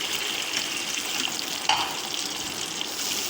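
Water poured into a simmering nargisi kofte curry, thickened with almond and walnut paste, gives a steady bubbling, splashing hiss with one brief louder splash partway through, close and alone with no talk.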